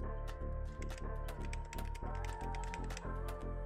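Quick, irregular clicks of keys on a computer keyboard as a search term is typed, close and distinct, over a steady faint background tone.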